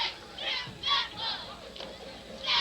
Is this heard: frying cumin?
no